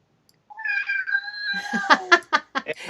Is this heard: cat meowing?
yes